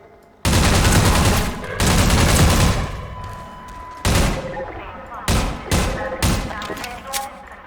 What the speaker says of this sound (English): What's it called? Emplacement machine gun,